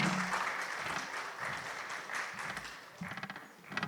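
Audience applause at a panel session on the future of surveillance, steady dense clapping throughout at moderate level, with a few sharper individual claps standing out near the end.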